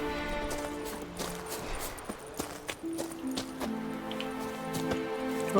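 Rainfall in the video game The Witcher 3: Wild Hunt, soft patter with scattered drop ticks beneath a tonal music bed, joined by intermittent clip-clop of hooves, fairly faint overall.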